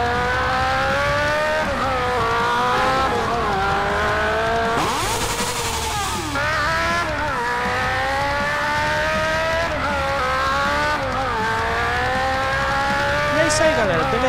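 A Yamaha XJ6 motorcycle rides through GTA, its engine note climbing and falling in steady waves as it accelerates and shifts, running loud and continuous with a brief rougher burst partway through.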